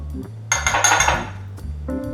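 A teaspoon clinks against a measuring cup as ground ginger is added, giving a few light, bright metallic taps close by with no talk.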